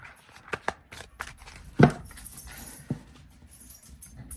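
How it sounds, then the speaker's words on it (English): A tarot deck being shuffled by hand, with a few sharp riffle and tap bursts and one louder slap near the middle, the rest soft rustling of cards close by with no voices. "So let me give it a good shuffle."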